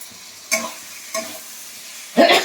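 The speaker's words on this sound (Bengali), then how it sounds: "দিয়ে আমি একটু ভালো করে কষে নিই।" Chicken with tomato and capsicum is stir-fried in a pan, a faint low sizzle punctuated by three short scraping stirs, the last one louder and longer.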